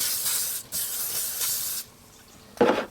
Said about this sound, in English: What I'll do with that is just a bit of spray oil